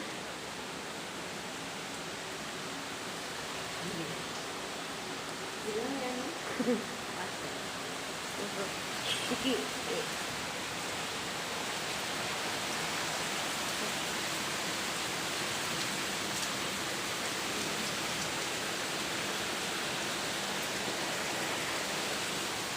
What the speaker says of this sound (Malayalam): നമ്മുടെ നാട്ടിൽ പെരുമഴയാണ്